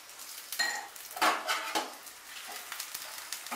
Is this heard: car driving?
no